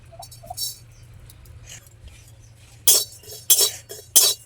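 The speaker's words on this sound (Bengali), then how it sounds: "এবার এই কড়াইতে আমি জিরে দিয়ে নাড়াচাড়া করে নেবো।" Cumin is stirred in a kadai, where a few light metallic clinks give way to three louder scraping bursts of spatula against the pan near the end, separated by quiet gaps.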